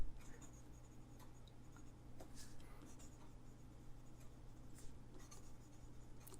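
A fountain pen with a stub nib is writing cursive on a slant, giving soft, steady scratching and brushing strokes at a faint, close level over a low background hum.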